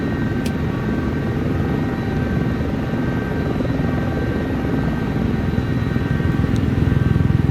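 Sikorsky helicopter engine and rotor running in the X-Plane 12 flight simulator, a loud, steady, dense whine and thrum that holds constant throughout with no speech.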